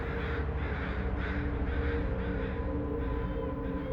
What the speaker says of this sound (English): another burst of calling crows breached the horizon